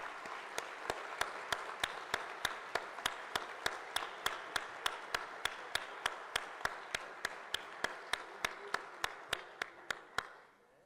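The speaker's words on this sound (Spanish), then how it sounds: "Yo sí quiero pedir un aplauso para estos dos hombres" Steady, evenly spaced hand claps, about three per second, ring out clearly and alone at a book presentation, keeping an even rhythm for roughly ten seconds before stopping.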